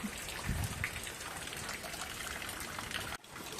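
Steady rain pattering down on surfaces, a dense continuous wash of drops with a brief dip near the end.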